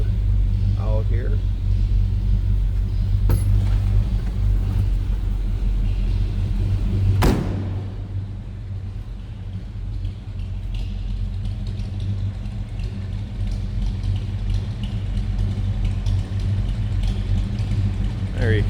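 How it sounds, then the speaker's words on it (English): A 1953 Ford F100 stepside pickup with a flathead V8 and dual glass-pack exhausts idles close by, a deep steady rumbling burble with a sharp knock or clunk partway through, while someone talks over it. "exhaust note on these flatheads, no doubt about that. Dual exhaust with glass packs."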